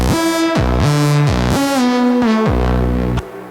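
A melodic techno synth with LFO, envelope and filter cutoff automation plays a sequence of buzzy, harmonically rich notes over a deep bass tone, each note swelling and shifting in brightness, loud and alone, cutting off near the end.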